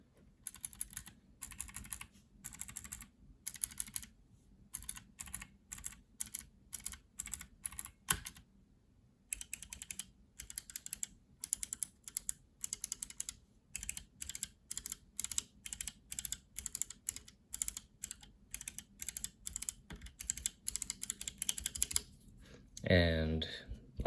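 Loose, unmounted Gazzew Outemu Phoenix clicky keyboard switches are pressed in quick, crisp bursts of clicks, close and clear, with a short pause partway through before the rhythmic clicking resumes.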